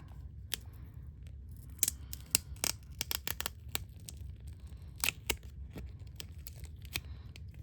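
A sticker design slowly peeled from its backing: crisp, close clicks and small tearing crackles come in an irregular scatter, some sharper than others, with a quiet low hum beneath.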